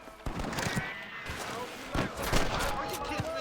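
Rifle gunshots in Red Dead Redemption on PS4, several sharp cracks spaced out over ambient game sound and music, fairly distant rather than close.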